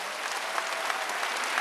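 A church congregation at a Wednesday worship service claps in a short burst of dense, steady applause, moderately loud and with no voices over it.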